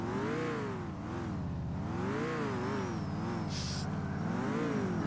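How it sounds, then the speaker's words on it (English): A car in the video game GTA IV driving along, its supercharger giving a steady rising and falling whine over engine drone that swells and dips with the throttle, close and continuous. "You can hear the supercharger"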